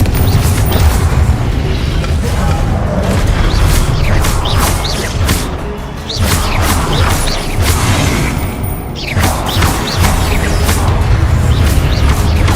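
Repeated booming spell explosions from combat in the game Hogwarts Legacy, with crashes and rumbling blasts layered continuously over dense battle noise, loud and close throughout.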